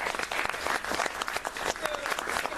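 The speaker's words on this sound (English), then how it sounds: "let's give ourselves a round of applause" Keynote audience applause at a motivational talk: a full, continuous patter of many people clapping, steady and moderately loud throughout.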